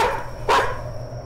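A dog in a video game barks once, a short sharp burst standing out over steady game background noise.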